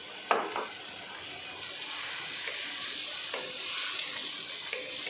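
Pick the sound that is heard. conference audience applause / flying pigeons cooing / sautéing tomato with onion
sautéing tomato with onion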